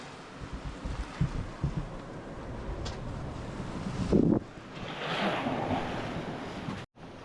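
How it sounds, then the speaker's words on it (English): A strong wind gust rushes across a sailboat at sea, rising and falling as surging waves wash nearby, with a short burst of wind buffeting the microphone. "It's a heavy gust."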